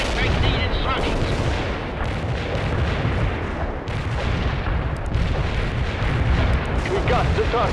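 Mortar and artillery fire in a war video game: a thick, unbroken roar of booms and gunfire rumbling throughout at high, steady loudness, with radio-style voices talking under the barrage.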